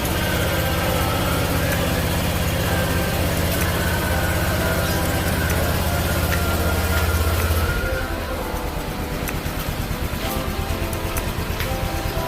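A motorcycle engine runs steadily after a dry battery repair, a loud close idle with a constant low hum that drops in pitch and level near the end.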